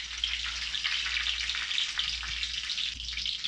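Mustard seeds and dried red chillies fry in hot coconut oil, giving a steady, close, dense sizzle with faint crackles running without pause.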